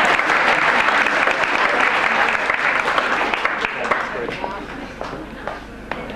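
Audience applause at a 1997 Queanbeyan Leagues swimming awards presentation: a dense, loud wash of many clapping hands that thins out and fades over a few seconds.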